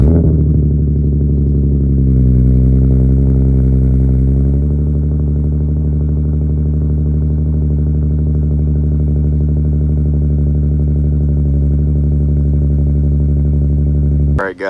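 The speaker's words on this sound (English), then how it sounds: "First cold start with the DC Sports single exit" A Nissan 370Z with a DC Sports single exit exhaust and Y-pipe starts cold, settling into a loud, deep, steady idle with a brief high rise early on. It drones on continuously up close, then cuts off abruptly at the end.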